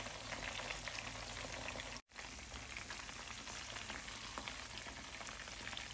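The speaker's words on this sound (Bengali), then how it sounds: "এই জন্য আমি তেল দিয়ে আমি তান্দুরি চিকেনগুলো এখন ফ্রাই করে নিচ্ছি।" Tandoori chicken pieces frying in oil over low heat, a steady dense sizzle and crackle close up throughout, with one very brief dropout near the start.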